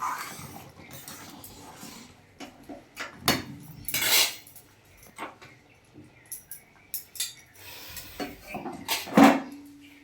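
A pot of mung dal cooked with a fish head is lifted off the stove, giving scattered metallic clanks and scrapes of pot and utensils, with a louder clatter near the end and no talk.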